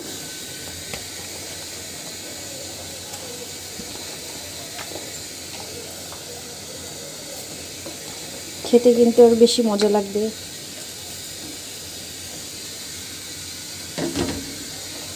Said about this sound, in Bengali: ঝোলটা কিন্তু খুব সুন্দরভাবে ফুটতে শুরু করেছে